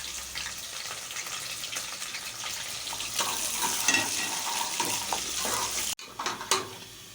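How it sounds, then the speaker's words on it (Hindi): Onion and cumin frying in oil for chana kulfa saag, a steady crackling sizzle with stirring and utensil scrapes, briefly cut off near the end before resuming. "इस प्याज को डालूंगी और ये जो ज़ीरा है इसे भी इसमें ही फ्राई"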